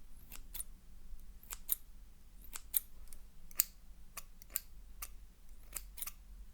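Scissors cut hair around the ears in a hairdresser roleplay, giving a steady run of about a dozen crisp, close snips, quiet and alone with no talking.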